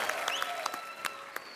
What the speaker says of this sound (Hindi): आप सबकी जोरदार तालियों के बीच